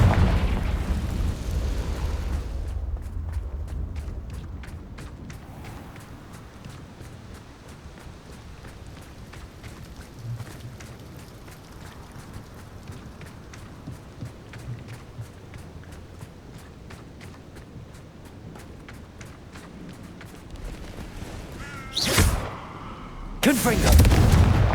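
Confringo fire spell blasts in the video game Hogwarts Legacy: a run of rapid repeated pops and bursts over a low rumbling bed, ending with a couple of louder booming impacts near the close.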